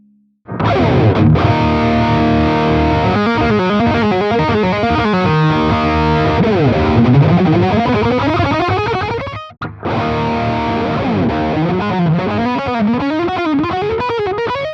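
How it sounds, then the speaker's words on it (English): A heavily distorted electric guitar through a PRS MT15 tube amp in half power mode plays a driving riff at loud volume, pausing briefly midway before continuing with the same gritty, dry, saturated tone. "this amp is really dry sounding when it comes to the actual distortion itself"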